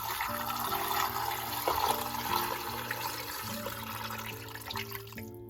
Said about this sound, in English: Now it's time to add our water. We're going to add about 8 to 10 cups of water.